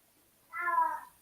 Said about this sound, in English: Oh, the cat is acting up again.